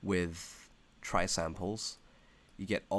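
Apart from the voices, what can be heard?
No everyday noise stands out behind the speech.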